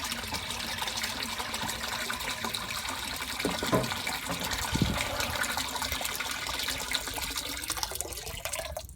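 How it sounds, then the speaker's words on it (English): Water from a tipped bowl drains out through a narrowboat's side skin fitting into the canal, a steady trickling, splashing flow that runs continuously at moderate level with a couple of brief knocks partway through. "I can tip that up and you should see the water come straight out the side."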